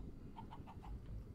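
A quick run of four or five soft, evenly spaced clucks from a Minecraft chicken, faint and close together, over a low background hum.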